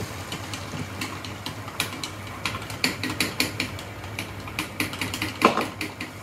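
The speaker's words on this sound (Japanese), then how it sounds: "こうやって混ぜていくんでしょ" Ingredients are being stirred in a bowl while children make bread at home, producing a string of quick clicking and scraping strokes in an uneven rhythm, close and moderately loud over a low background hum.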